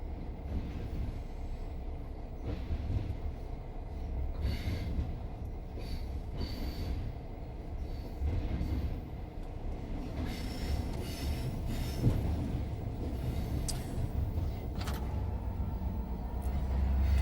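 A steam-hauled heritage train rumbles through Bedlam Tunnel, a 245-yard cut-and-cover tunnel curving to the right, with a continuous heavy rolling roar, wheel and rail noise and occasional squeals, echoing steadily throughout.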